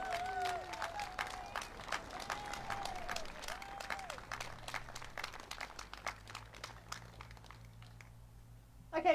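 Scattered applause from a small audience at a live jazz quartet's outdoor driveway performance, a few hands clapping irregularly and fading out over several seconds.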